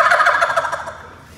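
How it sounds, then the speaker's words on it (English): A male wild turkey perched on a tree limb gobbles in a rapid rattling burst, loud and close, fading off over about a second with no talk over it. "God made these turkeys in such a way where he gobbles and the hen comes to him"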